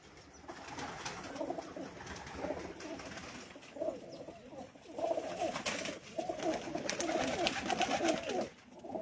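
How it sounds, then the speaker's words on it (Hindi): Large pigeons kept on a rooftop coo repeatedly in low, throaty bursts amid rustling and a busy outdoor background, moderately near and fairly soft, with no talking. "ये बड़े कबूतर हैं जी।"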